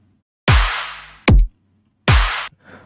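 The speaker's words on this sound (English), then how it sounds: "So your drums, it's a simple kick clap pattern, which sounds like this." Dubstep drum pattern of heavy kicks and a sharp clap, three loud close hits with deep booming lows and bright noisy tops, separated by clean silence.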